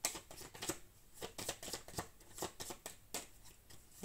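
Tarot cards shuffled by hand in a quiet room, a steady run of crisp riffling flicks and soft slaps over about four seconds, close and fairly quiet with no talking.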